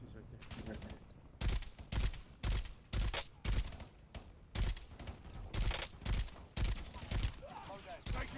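Gunfire rings out in a multiplayer shooter video game, a rapid series of loud, sharp bursts roughly every half second, with players talking faintly between shots.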